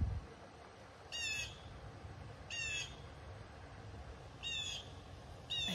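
A crow squawks near a backyard pond in four harsh, separate bursts spread through the stretch, fairly close and loud over a soft outdoor hush.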